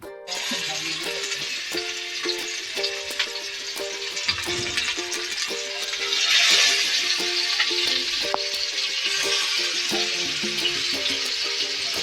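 Flour-coated mandeli fish fries in hot oil with a loud, continuous crackling sizzle that swells midway, with light clinks of a utensil scattered throughout.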